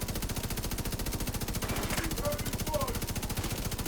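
Sustained rapid automatic gunfire in the shooter game The Division 2, a dense, evenly spaced stream of loud shots running unbroken throughout, with faint game effects in the background.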